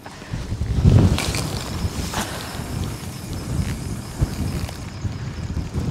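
Wind gusting around a fishing boat out at sea off Norway, a steady rushing roar with low buffeting rumble on the microphone, strongest near the start and continuing without pause.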